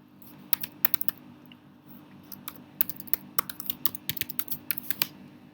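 Quiet, irregular keystrokes tap on a computer keyboard as a password is entered at a Linux MySQL login, with bursts of clicks separated by short pauses.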